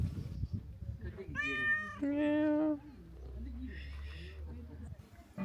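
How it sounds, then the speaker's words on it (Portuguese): Cats meow among the ancient ruins of Ephesus, several drawn-out, rising calls in the middle, fairly close, with a voice talking nearby and a low background rumble. "os únicos moradores que restaram são os gatos"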